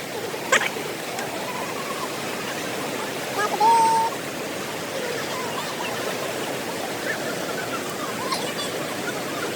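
Rushing water at Kalu waterfall, a dense, steady roar of falling, high-pressure water that fills the whole clip at close range, with a brief faint voice rising over it.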